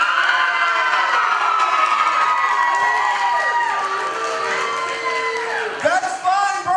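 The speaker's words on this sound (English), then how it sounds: "You can cheer all you want" A wrestling event crowd in Berkeley Springs cheers and shouts, loud and sustained throughout, with excited voices rising over the roar.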